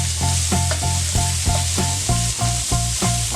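Garden vegetables and onion sautéing in a hot pan, a loud steady sizzle broken by a regular rhythm of stirring scrapes, close up with no voices.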